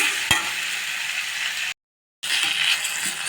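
Ingredients for sabudana idli sizzle and hiss while being sautéed and stirred in a pan, a steady close frying sound broken by a brief silent gap.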